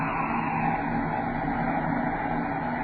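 Spaceship braking rockets firing in an old-time radio drama, heard as a steady, loud rushing roar with a rumbling engine-like drone that holds evenly throughout with no voices over it.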